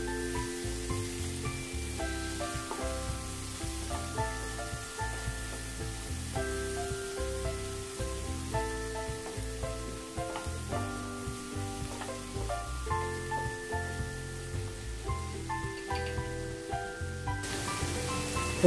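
Chicken bhuna masala sautés over medium heat in a pan, a soft, steady sizzle and stir heard faintly beneath music with a regular beat that plays throughout.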